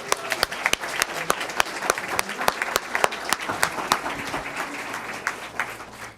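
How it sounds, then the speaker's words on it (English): Audience at a school board meeting applauding FBLA students, a room of separate sharp hand claps in an uneven rhythm, moderately loud and close, fading out toward the end. "One more round of applause for FBLA."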